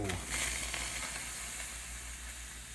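Water hitting a hot stove burner and sizzling loudly while mac and cheese pasta cooks, a steady hissing fry that starts abruptly and holds for a few seconds with no talking.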